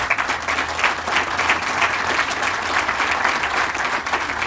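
Steady, dense applause from a large audience at a 2017 Veterans Day ceremony, loud and even for several seconds with no speech over it.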